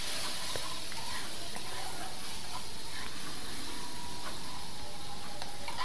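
Ground spices and a splash of water sizzle in a pan of bok fish curry, giving a steady, close, hissing simmer that runs unbroken, with faint clinks now and then.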